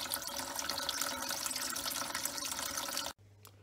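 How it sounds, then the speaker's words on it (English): Water runs steadily from a tap fed by a Whale Water Master pump system after a pressure switch adjustment, a continuous even rush with no pulsing that stops abruptly near the end. "we've got water coming out of the tap and it's not pulsating"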